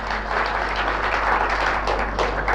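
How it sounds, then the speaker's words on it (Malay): Audience applause at an awards night swells as a dense, continuous wash of many hands clapping in a hall, steady and fairly loud throughout. "Tepukan kepada CCM Miss Winnie Chu."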